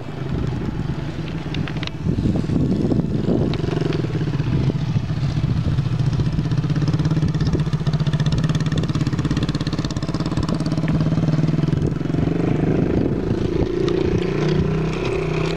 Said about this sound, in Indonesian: awas ada motor